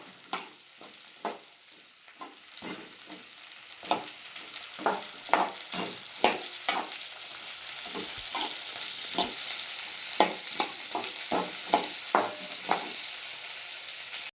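Small shallots frying in hot oil for vatha kuzhambu, a continuous bright sizzle with regular clicks and scrapes of a ladle stirring the pan.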